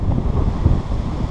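Loud, low rumbling buffeting of strong wind hitting the microphone at a racehorse starting gate, continuous and close, with no voices.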